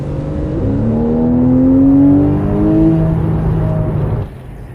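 A 2012 Porsche 911's flat-six engine revs steadily upward to a loud, full-throated peak past 6,500 rpm, its rising whine strong and close before it suddenly drops back to a lower idle-like drone.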